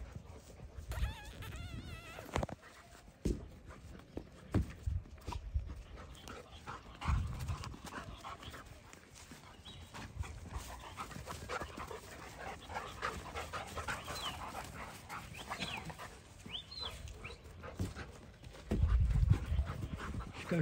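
Monstiff puppies pant softly and breathily, close by and fairly quiet, with faint whimpers and shuffling movement throughout.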